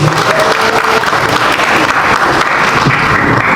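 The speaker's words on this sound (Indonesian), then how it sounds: "Tepuk tangan untuk Pak Pendeta Muriwale" A crowd at a Muslim–Christian debate applauds Pastor Muriwale, loud sustained clapping filling the hall with a steady dense roar, close and uninterrupted by talk.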